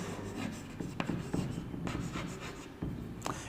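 A pen writing on paper, continuous soft scratching with several light taps from strokes, close and quiet, no talking.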